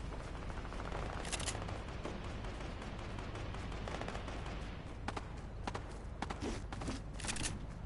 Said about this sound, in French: Ah, ça tire derrière moi!